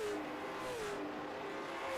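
Race cars at Nashville Fairgrounds Speedway, among them the number 45 car, roar steadily close by, a continuous loud engine drone with a gliding pitch as they power around the short oval.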